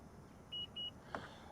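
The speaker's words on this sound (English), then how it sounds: "If you hold the button down and listen for the beeps" Two short, clear electronic beeps from a Honda Odyssey Touring's power rear liftgate, evenly spaced and fairly close, followed by a faint click, with no talking.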